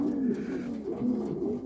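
Horseman pigeons cooing close by, steady low repeated coos in a loose rhythm over faint background noise.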